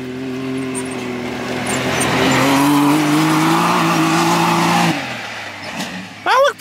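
An X3 or YXZ side-by-side race car revs hard over a jump on a dirt test track, its engine droning and climbing loudly before cutting off abruptly, followed by a short squealing chirp.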